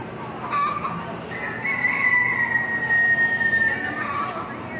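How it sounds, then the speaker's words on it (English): Chickens, including large fowl English Speckled Sussex, cluck and a rooster crows over a busy barnyard murmur at a state fair poultry show, with a steady background hum throughout. "That's a hen. And that's a cock."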